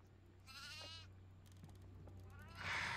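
A goat in the horror video game Devour gives two drawn-out, wavering bleats, the second louder and closer, over a low steady hum with faint scattered ticks between them.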